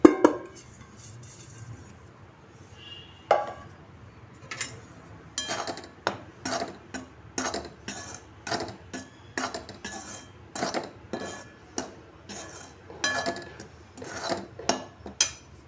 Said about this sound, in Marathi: आता आपण याचे पीठ भाजून घेणार आहोत